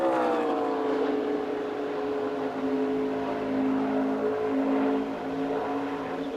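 The number 20 NASCAR race car runs a smooth practice lap, its engine a steady high-pitched drone that rises slightly and holds, heard at a distance with no talking over it.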